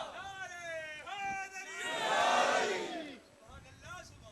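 A large gathering at a milad mehfil in Pakistan roars a loud chanted response to a religious slogan, voices swelling together to a peak before dropping off, following a single leading voice calling out.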